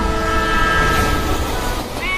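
A train passing close and loud, a continuous heavy rumble with ringing tonal hum and rail noise held throughout the short stretch, with no talk.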